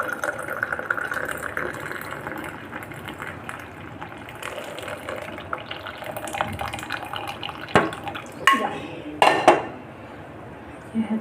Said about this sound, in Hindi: हम अपनी चाय को छान देते हैं।